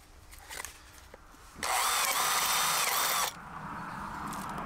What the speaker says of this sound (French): Donc là, on perce quelques trous.